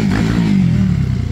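Engine of a Honda Pop 110 motorcycle fitted with a Titan 150 engine and 70 mm piston, revving loudly and steadily while being ridden, close and continuous for about a second and a half.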